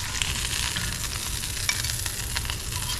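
A sausage frying in a pan for a country breakfast, with a dense, continuous sizzle and crackle close up, occasional sharper spits, and no voices.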